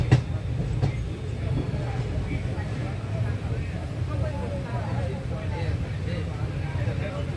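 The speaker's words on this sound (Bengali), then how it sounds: "আমাদের আজাদিনী এক্সপ্রেস এগিয়ে যাচ্ছে দুর্দান্ত গতিতে" The Pune–Howrah express train 12129 runs at speed, heard from inside as a continuous, even rumble with a low rattling clatter throughout.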